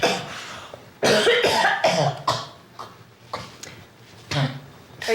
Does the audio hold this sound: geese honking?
no